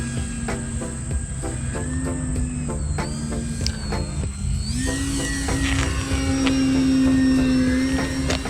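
Horizon Hobby electric RC sport prop plane flying overhead, a steady whining motor buzz that shifts pitch as it maneuvers, growing slightly louder toward the end.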